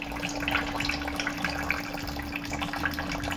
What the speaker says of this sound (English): As you can see that it's draining out.